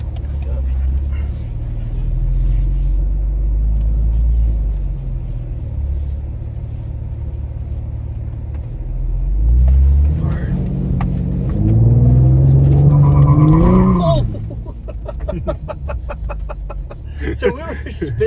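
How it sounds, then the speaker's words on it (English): A Ford Explorer ST fitted with a FenFab transmission mount insert spins its tires to warm them. A low idle rumble builds into a rising engine rev and a squealing whine midway, then drops back, with voices around it. "So we were spinning right there. Yeah, I was trying to warm up the tires a little bit."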